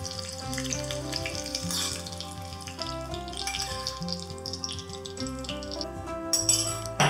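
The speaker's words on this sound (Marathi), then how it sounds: "आता ही फोडणी किंवा हा तडका घालूयात ढोकळ्यावर" Hot oil tempering with green chillies sizzles and crackles steadily up close as it is poured over dhokla, a continuous frying hiss with brief pops, swelling louder near the end.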